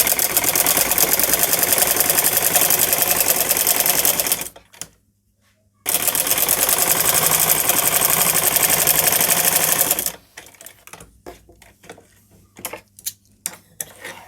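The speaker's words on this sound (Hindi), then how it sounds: "तो हम यहाँ बिल्कुल किनारे के ऊपर से सिलाई लगाएंगे।" Sewing machine stitching right along the fabric edge while making an elastic frill sleeve, a steady close whirring run that pauses briefly, resumes for several seconds, then gives way to faint handling clicks.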